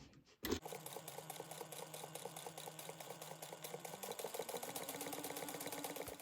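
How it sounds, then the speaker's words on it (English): Sewing machine stitching steadily around a fabric mouse-ear circle at an eighth-inch seam for a bag, a continuous close rattling hum after a brief start, with no talk. "you're going to sew around the complete circle at 1/8 of an inch"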